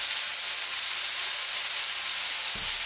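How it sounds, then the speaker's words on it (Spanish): Mushrooms sautéing in a pan for a Spanish spaghetti dish with mushrooms and asparagus, a steady broad hiss and sizzle holding evenly throughout, with a brief low knock near the end. "Vamos a saltear los champiñones aquí"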